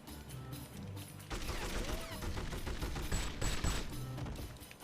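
Gunfire in the PS2 game From Russia With Love: after a quieter start, a burst of loud rapid shots and impacts breaks out and keeps going, with sharp cracks scattered through the dense action.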